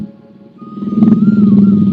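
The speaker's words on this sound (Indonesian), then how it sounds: "ada motor lewat, saya di pinggir jalan ini" Motorcycle passing along the roadside, its engine drone rising and growing louder as it approaches, then holding steady and close, with no talking over it.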